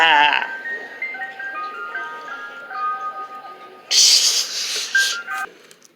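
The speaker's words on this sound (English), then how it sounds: "now I'll be waiting for the ice cream truck today" An ice cream truck plays its jingle as a sequence of thin, tinny electronic melody notes, followed by a sudden louder burst of bright noise near the end before the tune resumes faintly.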